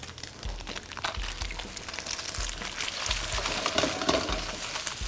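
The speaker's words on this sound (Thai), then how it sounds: "เดี๋ยวเราก็จะใส่ไข่แล้วครับ ผมก็จะใส่ไข่เลย" Egg is stir-fried in oil with mackerel and garlic in a pan for mackerel and salted egg fried rice: a steady close sizzle under regular scraping strokes of the stirring utensil.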